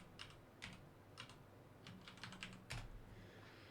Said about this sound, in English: Just typing in his name for the guide